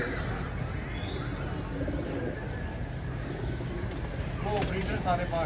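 Pigeons on a rooftop loft, low murmuring coos and a few higher chirps near the end, heard through constant background noise while someone talks.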